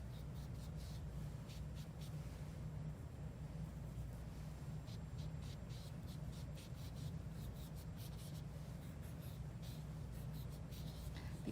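A paintbrush strokes watercolour paint across wet paper, giving soft, faint brushing and scratchy rubbing sounds in short repeated strokes, close up and quiet, with no talking.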